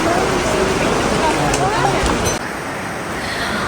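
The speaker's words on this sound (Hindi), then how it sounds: "बारिश अब इतनी तेज़ हो गई है कि अब कुछ नज़र ही नहीं आ रहा है, सिर्फ पानी की आवाज़ है" Heavy rain pours down at the Bali Gate of Heaven temple, a steady, dense hiss filling the scene close by and continuing without pause for the whole stretch.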